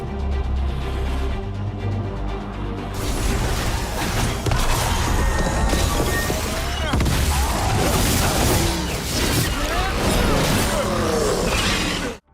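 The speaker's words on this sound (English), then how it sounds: "we direct Lucanus to use Eviscerate to detonate a combo that strikes this whole gathered up frozen group" A combo detonation from the Eviscerate ability striking a gathered group of frozen enemies in a fantasy action game: a dense stretch of booming impacts, crashes and clattering effects, loud and continuous, with layered combat noise throughout.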